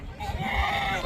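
A goat in a village herd bleats loudly and close by, one sustained wavering cry, with someone speaking Hindi underneath.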